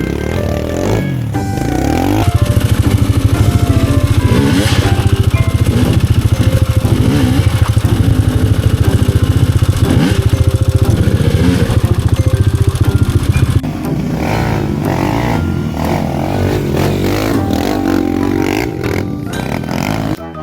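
A trail motorcycle engine runs loud and close on an off-road ride in Montalban, holding a steady rough drone that drops in tone partway through, with clattering and scraping over it.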